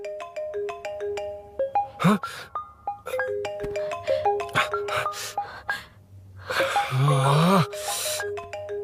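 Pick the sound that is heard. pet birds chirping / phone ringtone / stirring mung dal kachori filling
phone ringtone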